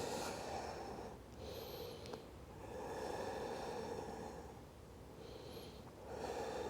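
Slow, deep breathing during a slow-flow core yoga session, close and steady, with long inhale and exhale swells and a soft snorting edge, no talk.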